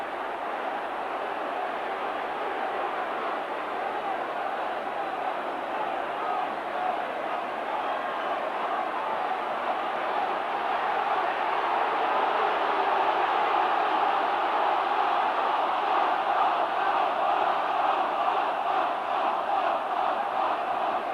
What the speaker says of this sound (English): the crowd shouting for Harvey Howard to be sent off